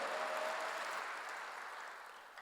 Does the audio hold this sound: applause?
yes